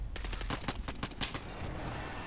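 Rapid bursts of video game gunfire crackle in quick succession, a dense fusillade of sharp shots over a second or so, then thinning out with a few scattered cracks, fairly close and loud with no talking.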